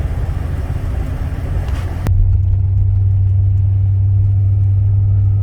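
A 1976 Cadillac Sedan de Ville engine and exhaust idling with a low, steady hum, close and fairly loud. A brief burst of broadband noise comes first and cuts off sharply, leaving the smooth idle alone.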